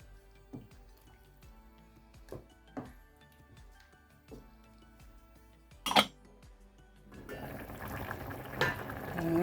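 Jaffna-style fish sarakku curry simmering in a pot, soft bubbling under a few sharp clinks of a utensil against the pot, swelling into a louder, denser rolling boil near the end.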